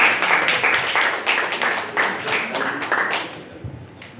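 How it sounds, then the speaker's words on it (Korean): Applause from a workshop audience welcoming the next speaker, brisk rhythmic clapping at close range that fades out toward the end. "큰 박수로 환영해 주십시오"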